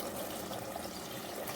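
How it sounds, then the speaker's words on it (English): Water is poured into a cooking pot for egg biryani with mint leaves, a faint, steady splashing flow with no break over its short length. "Add 3 glasses of water."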